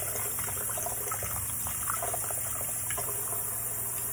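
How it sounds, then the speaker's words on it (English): An implement rinsed under warm running tap water, a steady hiss and splash from the faucet that continues without pause. "we're going to pull our implement out and rinse it under warm running water"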